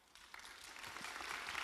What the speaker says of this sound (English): Let's give a round of applause again to our great Attorney General